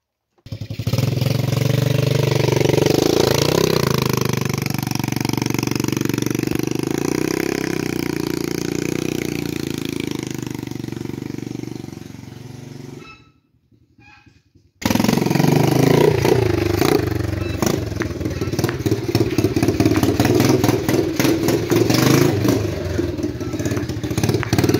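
A mini Honda CRF dirt bike engine runs loud and close for about thirteen seconds, cuts out briefly, then restarts with a rougher, clattering idle. It stays steady and alone with no talk.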